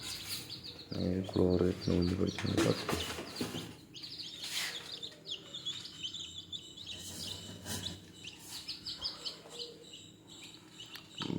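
Native chicken chicks kept in a box peep and chirp in quick, high calls, loud at first and then thinner and scattered, close by with no speech.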